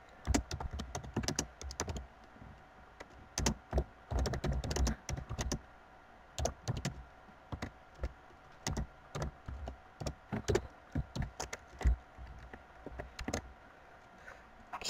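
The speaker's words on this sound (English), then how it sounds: "I'm just going to type in an example message." Steady typing on a computer keyboard, nearby and fairly loud, in irregular bursts of quick key clicks with brief pauses for about fifteen seconds, no voices.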